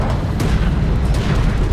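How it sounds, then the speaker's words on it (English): A hostile strike craft explodes in the Deserts of Kharak video game, giving a short, dense, booming rumble with a few crackling peaks that fill the brief moment. "Hostile strike craft destroyed."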